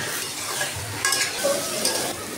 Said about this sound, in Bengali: এখন আমি বেগুনগুলো সুন্দর করে কষিয়ে নেব।